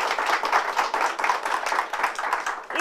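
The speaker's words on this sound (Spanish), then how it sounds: "Vamos a darles un fuerte aplauso," Lively audience applause at a children's variety show, a steady dense patter of many hands clapping close by for about three seconds with no talk over it.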